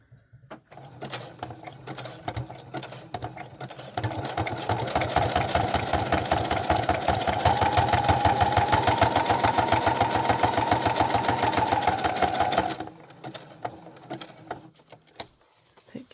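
A sewing machine runs a back stitch on a junk journal candy box, a rapid rhythmic chattering that builds for about nine seconds then stops, close and steady, with light handling clicks before and after.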